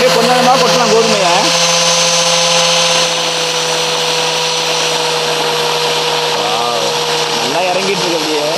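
Home-built flour mill grinding wheat, a loud steady motor whine with strong sustained tones and a harsh grinding roar. Grain is poured in gradually, and a voice talks over the machine at the start and near the end.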